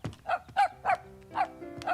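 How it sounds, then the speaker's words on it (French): A small dog barks five times in a quick, evenly spaced series, each bark sharp and close, with a low steady hum underneath. "Il aboie, grand-maman."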